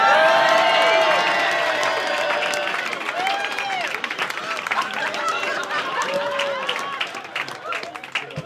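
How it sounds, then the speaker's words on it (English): Comedy club audience applause and cheering for a volunteer on stage, loud at first then settling into a crowd murmur with whoops, chatter and voices over it. "Give him a round of applause, folks."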